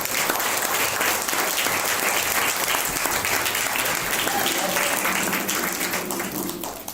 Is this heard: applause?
yes